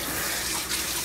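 Water sprays in a steady, close hiss while a dog is wetted down for grooming, with no speech over it.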